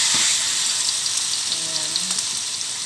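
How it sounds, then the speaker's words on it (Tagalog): Chicken pieces frying in a little oil, shallow rather than deep, for kabsa, a steady hiss of sizzling with faint crackles and a few low tonal knocks nearby. "Fry ko muna yung chicken."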